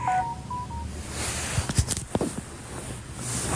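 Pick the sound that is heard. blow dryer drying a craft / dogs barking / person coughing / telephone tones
telephone tones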